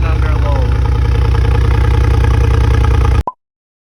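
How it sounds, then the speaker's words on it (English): A Mercedes G550 4x4 Squared with an Akrapovic exhaust idling loudly, a deep, steady burbling exhaust rumble, running evenly for about three seconds before cutting off abruptly. "An Acropovic exhaust, and it sounds real good at idle and under load."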